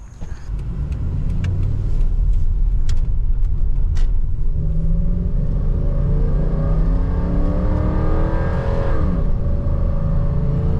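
A first-generation Toyota Tundra pickup from 2000 to 2006, with a 245-horsepower V8 and a 4-speed automatic, accelerates hard from inside the cab. The deep engine roar rises steadily through the gears, with rising and falling tones at each shift, loud and close, with no talk.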